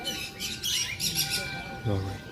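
Sparrows and parrots in a bird house at a temple complex chirp and squawk in short, bright bursts at moderate distance, with a low voice briefly heard among the calls.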